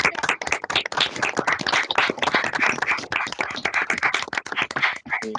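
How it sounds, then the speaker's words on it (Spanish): Sustained audience applause after a talk on business economics and sustainability finance, dense rapid clapping from many hands throughout, ending with a few scattered claps. "Un aplauso para él"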